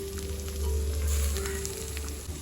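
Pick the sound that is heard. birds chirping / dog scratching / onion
onion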